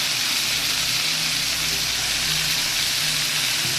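Vegetables fry with turmeric in a pan: a steady, moderate sizzle with a bright, rain-like hiss runs on without a break, and no voices are heard.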